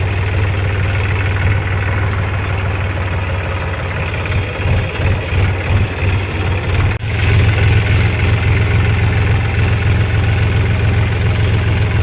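A tractor's heavy engine idles steadily with a deep, continuous low throb, close and loud, with a brief dip in the sound partway through.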